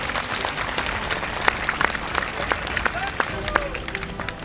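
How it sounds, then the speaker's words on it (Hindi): Crowd at a political rally in India breaks into applause, a dense wash of clapping with sharper individual claps standing out, steady and loud throughout with murmuring voices underneath. "तालियों की गड़गड़ाहट।"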